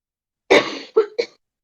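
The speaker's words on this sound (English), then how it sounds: "Sorry for coughing so much." A single person coughs three times in quick succession, one harsh cough followed by two shorter ones, close up against silence.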